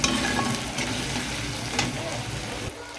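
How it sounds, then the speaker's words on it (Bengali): Onions and green chillies fry with salt in a pan, giving a steady, close sizzle with stirring scrapes throughout and no talking. "পেঁয়াজ দিয়েছি, কাঁচা লঙ্কা দিয়েছি, এর মধ্যে নুন দিয়ে একটু ভালো করে ভাজবো লাল করে"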